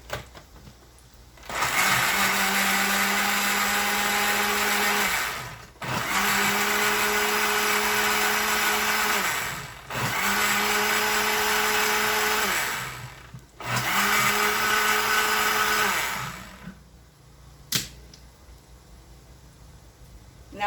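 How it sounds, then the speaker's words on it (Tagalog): A kitchen blender whirring through tomato sauce for meatballs in four long bursts, each several seconds of steady whining roar with short pauses between, loud and close. "So use the blender."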